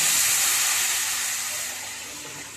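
Tamarind broth poured into hot tempering for Telangana pachi pulusu, a loud bright hiss and sizzle bursting at once and then slowly easing off, with no voices.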